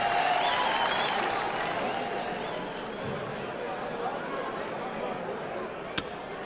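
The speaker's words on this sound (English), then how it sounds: "Crowd overflow, well wishers and diehard supporters." Darts supporters at the 2008 PDC World Championship (US Open) fill an overflowing hall with steady applause and crowd noise, a dense wash of clapping and chatter that holds throughout, with one sharp clap standing out near the end.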